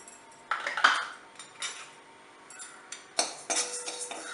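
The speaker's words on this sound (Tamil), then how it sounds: "இப்போ பாசிப்பருப்பை வறுத்துடலாம்" Moong dal roasts in a pan, heard as a few intermittent metallic scrapes and clinks of a spoon against the pan between quiet gaps.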